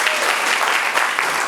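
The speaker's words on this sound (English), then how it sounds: "Let's give Tamika a nice warm round of applause." Warm applause from an audience at a State of Black America address in Memphis, a dense steady wash of clapping that carries loud and unbroken through the whole short stretch.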